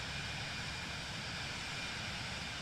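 The aircraft engine drone in Microsoft Flight Simulator 2024 holds a constant, even roar with broad hissing noise and no pauses or changes in loudness.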